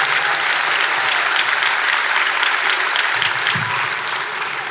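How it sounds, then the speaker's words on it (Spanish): Steady, dense clapping from an audience greeting a man as he introduces himself, close and loud, holding at full strength for about five seconds with no voices on top. "Denle un aplauso."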